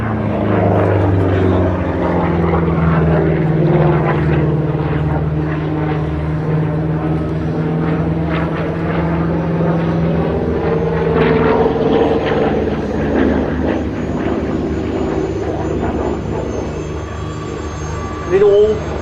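A P-47D Thunderbolt fighter, 'Nellie B', flying an air display at Abingdon, its loud radial-engine drone sustained and shifting in pitch as it passes, with a voice talking over it.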